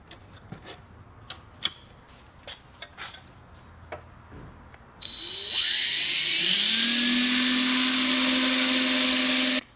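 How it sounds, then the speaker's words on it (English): A power drill bores a hole in a car airbox lid for an R33 Skyline custom build, starting after scattered clicks and taps and then whining loudly and steadily up close for several seconds. "So while I drill that second hole"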